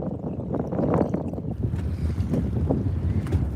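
Wind buffets the microphone on a bass fishing boat out on the water, a steady rough rumbling roar that gusts without pause, with faint water noise beneath.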